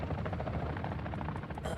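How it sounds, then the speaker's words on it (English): A helicopter in the video game DMZ thuds overhead, a quiet continuous rotor chop with rapid pulsing beats, heard without talk. "Jimmy, the fucking helicopter's following me, Jimmy!"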